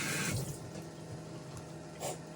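Fresh coriander rinsed under a running kitchen tap, a steady close stream of water splashing into the sink with brief louder surges at the start and near the end.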